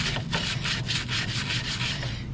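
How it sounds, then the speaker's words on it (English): Tyre brush scrubbing the exhaust tip of a Mk1 Audi TT, a rapid, even back-and-forth rhythm of bristly rasping strokes, close and continuous with no talk. "now I've got another tyre brush that I'm just going to use"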